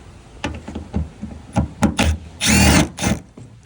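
Snap-on impact gun backing out a 10mm bolt from a cover on a Honda Odyssey, a series of short sharp rattling bursts and clicks, then one longer buzzing run of hammering, close and loud.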